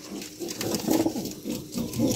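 A pet pigeon, the hen of a main breeding pair, coos at home in a soft, low, rhythmic series of close, moderately quiet calls with no talking.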